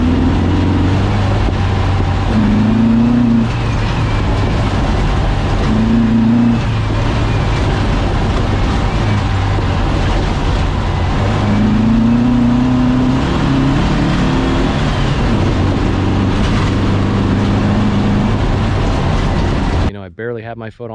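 Car with an aftermarket fuel injection system accelerating on the road, a loud steady engine drone with rising tones as it pulls through the gears, heard from inside alongside someone talking throughout.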